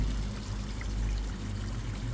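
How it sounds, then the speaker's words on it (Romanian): Vinegar and water marinade poured over Black Sea mackerel in a kitchen, a steady close splashing stream running for a couple of seconds, no talk. "apa cu oțetul marinata peste pește."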